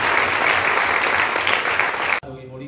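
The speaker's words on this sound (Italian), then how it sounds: "a cui facciamo un applauso" An audience at a public political rally in Campobasso applauds volunteers, dense steady clapping filling the space for about two seconds before cutting off abruptly.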